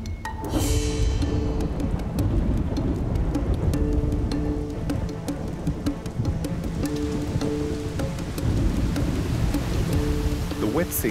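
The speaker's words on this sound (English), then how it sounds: "And heavy rain falls in blasting showers." Heavy wet-season rain pours steadily in a dense, continuous hiss with low rumbles of thunder beneath, constant throughout and mixed with background music.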